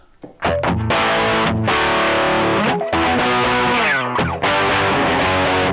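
Electric guitar played through the fat distortion of a Boss OD200 pedal with the mids boosted, Rat-like: loud, thick sustained chords and riffs with brief gaps between phrases, alone with no voice.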